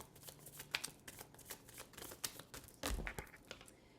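Sticky tarot cards shuffled close by in a quiet room, with a run of soft, irregular riffling and flicking sounds and a heavier thump near the end.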